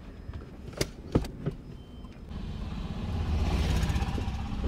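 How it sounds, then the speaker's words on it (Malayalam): A car sits quiet with a few sharp clicks and knocks, then its engine swells into a steady, rising rumble as it backs up nearby. "കുറച്ച് റിവേഴ്സ് അടിച്ചേ വണ്ടി"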